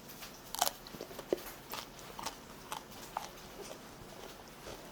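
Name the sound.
biting and chewing crispy roast chicken thigh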